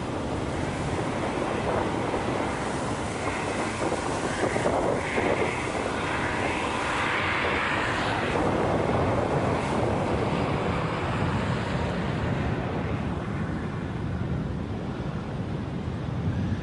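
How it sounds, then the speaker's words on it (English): A strong headwind roars against the mic while cycling along an ocean coast, a loud continuous rushing buffet with gusty swells over a low surf-like rumble and no clear talk. "This headwind is slowly beating me down."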